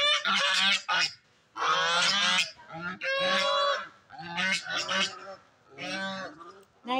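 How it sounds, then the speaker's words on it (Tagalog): Several geese honk loudly and close by in repeated bursts with short gaps between, a small flock being fed on a farm. "Ayan, ang mga gansa. Ayan ang gansa."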